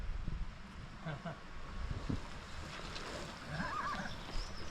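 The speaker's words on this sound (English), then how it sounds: "Oh, horses as well." A horse whinnies at a distance over steady wind noise outdoors in the Brecon Beacons hills of Wales, with faint murmuring voices nearby.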